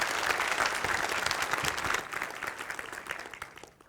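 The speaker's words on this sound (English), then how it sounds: "Big round of applause." A conference audience applauds a speaker introduced for a C++ performance talk, a sustained round of clapping that thins and fades out toward the end.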